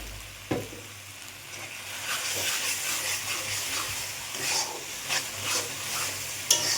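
Spices and salt being stirred in a frying pan: steady scraping and stirring strokes over a low sizzle, with a few sharper clinks of the utensil against the pan, close and moderately loud, with no voices.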